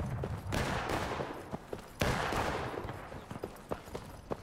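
Rifle fire from enemy soldiers in the War of Rights game, scattered musket-style shots crackling at varying distances, with a couple of louder nearby reports amid a rolling fusillade.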